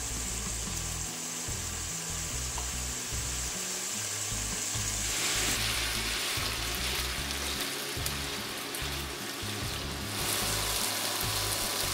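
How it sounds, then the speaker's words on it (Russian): Pork and onion frying in a pan, a steady close sizzle and crackle that continues throughout without talk, swelling slightly as it goes. "добавляю лук и продолжаю обжаривать"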